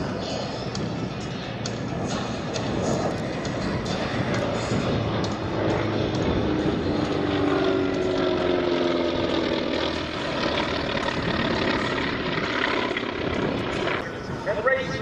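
A T-28 propeller aircraft roars overhead at an airshow over Greater Omaha, a loud sustained engine drone that swells and holds for the whole stretch with no talk.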